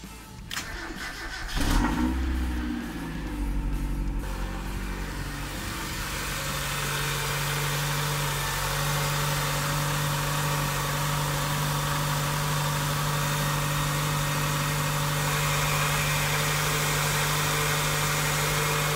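The engine of a car is started after antifreeze has been topped up: a short cranking whir catches and revs briefly, then settles into a steady, loud, close idle hum that continues to the end.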